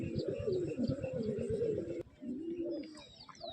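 Domestic pigeons coo steadily in a pigeon loft, soft overlapping low calls forming a continuous murmur close by, with a few faint chirps near the end.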